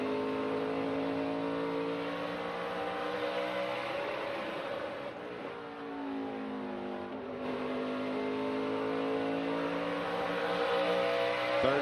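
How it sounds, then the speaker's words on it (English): A NASCAR Craftsman Truck Series truck runs hard through a qualifying lap, its engine droning loudly and shifting pitch, briefly dipping then climbing back up and buzzing as it hits the rev limiter, with no voices. "you can hear his rev limiter hit right at the start-finish line"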